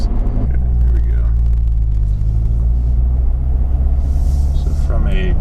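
A 2017 Chevrolet Corvette Grand Sport pulls hard from a roughly 5 mph roll on a closed circuit, its engine a deep, loud, continuous rumble heard from inside the car, with a brief voice at the start.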